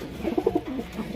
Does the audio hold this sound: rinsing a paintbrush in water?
no